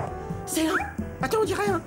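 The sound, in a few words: dog in a cartoon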